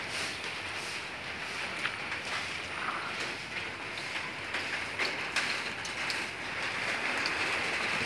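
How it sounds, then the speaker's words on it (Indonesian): Steady rain falls around potted mulberry plants outdoors, a soft continuous hiss with scattered droplet ticks throughout, moderately quiet and unbroken by talk. "Di sini lagi hujan ya."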